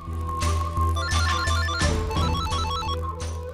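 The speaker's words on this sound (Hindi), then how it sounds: "माँ का फोन है, उठाइए।" Ringtone-style electronic phone ringing in a Hindi TV drama household scene, a repeating melodic trill pattern sounding steadily and loudly throughout over a low background hum, no voices.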